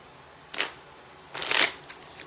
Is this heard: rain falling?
no